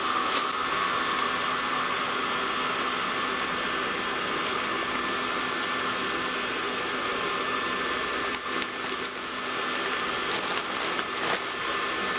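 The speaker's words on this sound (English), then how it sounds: "There's definitely air flowing into the hairdryer" A hair dryer blows air into a cheap homemade no-weld forge, giving a steady, loud broadband whoosh with a constant motor tone that runs without a break for the whole stretch.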